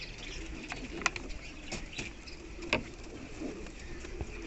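Fantail pigeons in a fancy pigeon loft during incubation give low, soft coos, with a few sharper chirps and brief flutters, near and moderate against a steady room hum.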